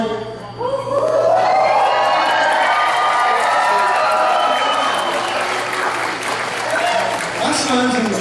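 A crowd applauds and cheers loudly at a judging contest, with a steady roar of clapping, whoops and shouting that starts abruptly after a brief pause and stays dense to the end, with voices calling out over it.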